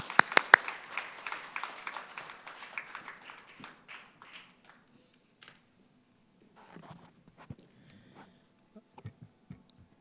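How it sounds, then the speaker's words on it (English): Scattered audience clapping for a speaker at a mass spectrometry conference starts fairly close and lively, then thins out within a few seconds into sparse taps, clicks and faint room noise. "A big round of applause, please."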